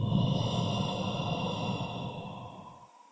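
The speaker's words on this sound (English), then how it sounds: "And breathing out." A slow, audible exhale during a guided meditation session, a soft breathy rush of air close to the microphone that gradually tapers off over about three seconds.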